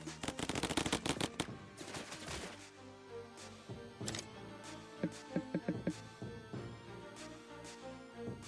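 Rapid machine-gun bursts from battling units in the strategy game Mechabellum, dense and loud at first, then thinning into scattered shots and impacts over a busy battle backdrop.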